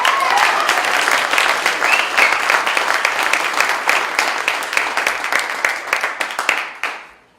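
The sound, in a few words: rally crowd applause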